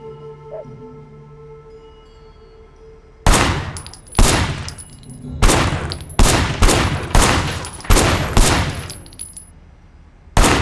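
Gunfire in the open-world action game Sleeping Dogs: about eight sharp, loud shots ring out at irregular intervals after a quiet hum, each with a short decaying tail, and no one speaks.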